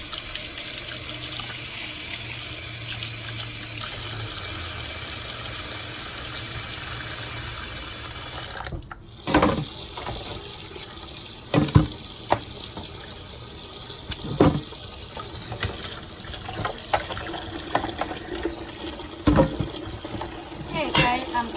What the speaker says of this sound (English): go clean with the cold water